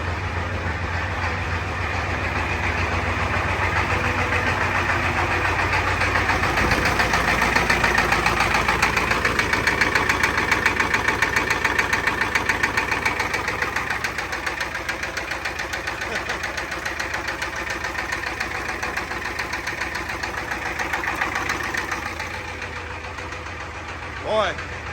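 A 7.3L IDI diesel idles roughly after its first cold start of the year, a loud, steady clattering drone with knocking, easing slightly in the second half and continuing under occasional talk.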